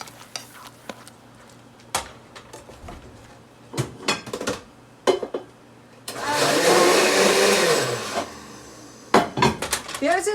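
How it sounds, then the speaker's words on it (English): Canned peas are ground in a kitchen blender for pea soup. Scattered clinks of dishes and utensils lead up to a loud two-second whirring burst from the motor, followed by more clatter. "I'm going to grind them a little bit more in the blender"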